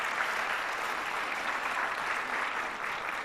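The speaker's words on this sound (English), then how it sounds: "Let's applaud you." Audience applause fills a gathering at the Capitol, a sustained wash of many hands clapping evenly at moderate loudness, with no voices rising above it.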